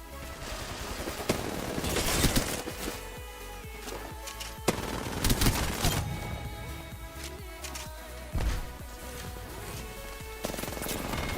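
Video game gunshots crack out in repeated loud bursts and volleys, close and dense, over a steady game background.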